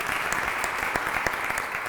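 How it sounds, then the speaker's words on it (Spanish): An event audience applauds as a speaker is welcomed on stage, a steady, brisk wash of clapping with crisp individual claps popping through, close and full. "Un aplauso, Miguel."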